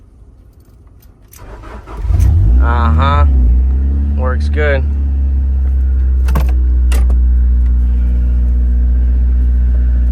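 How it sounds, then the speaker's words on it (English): Manual 1992–2000 Honda Del Sol starts with a short cranking whine, then its engine catches and settles into a steady loud idle while a person briefly speaks over it. "That's how you start the car."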